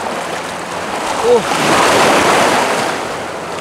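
Strong ocean waves roll and wash around someone wading across the sea at night off a remote island, a loud broad surge of water with wind rumble and a brief splash, no speech.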